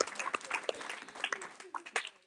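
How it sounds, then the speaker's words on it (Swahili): Church congregation at a Swahili sermon applauding the Lord, scattered uneven clapping with cheering voices mixed in. "Hebu mpigie Bwana makofi ya shangwe."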